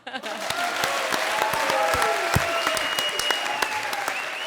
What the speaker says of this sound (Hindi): मेरे लिए जोड़ो तालियां।